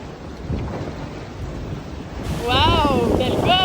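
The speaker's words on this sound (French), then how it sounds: "En tout cas, Bleuette, elle s'éclate à surfer dans les vagues là" Ocean waves and wind at sea aboard a racing boat make a steady, loud broadband rush throughout, swelling slightly louder midway, with high warbling tones sweeping over the roar in the second half.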